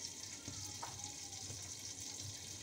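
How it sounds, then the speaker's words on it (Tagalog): Steady crackling sizzle of chicken frying in oil, close and continuous, with a few faint kitchen clinks underneath. "parang narinig ko na prito na yung manok. Kasi pritong-prito na."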